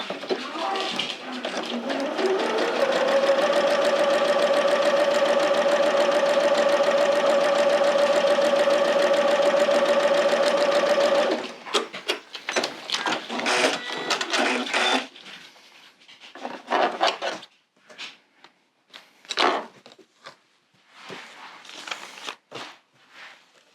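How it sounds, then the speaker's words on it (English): A sewing machine runs a steady, continuous seam through Tula Pink fabric for about eleven seconds, then stops; afterward come scattered handling clicks, rustles and brief bumps nearby. "I'm going to sew it."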